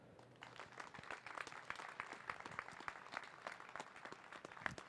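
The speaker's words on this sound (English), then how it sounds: "How about one more big round of applause?" Audience applause at a Massachusetts announcement event, a steady wash of clapping from a crowd with a few sharper claps standing out, moderately distant and continuous throughout.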